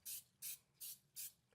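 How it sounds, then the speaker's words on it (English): Four short, evenly spaced bursts of cooking spray hissing into a pie tin, close and crisp, each lasting about a fifth of a second with brief pauses between. "spray it with some cooking spray"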